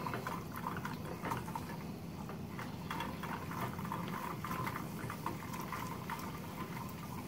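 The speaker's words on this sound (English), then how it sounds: "you'll see those milk proteins really start to froth up there" Butter clarifying in a pan, simmering and frothing as its milk proteins bubble up, with a steady close fizz and irregular small pops throughout.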